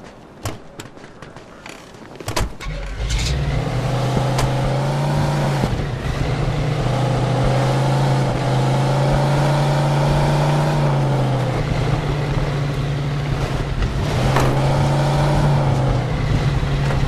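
A car in Mafia 2 starts up and drives off, its engine settling into a steady droning hum that stays loud and even for many seconds, rising slightly in pitch at moments.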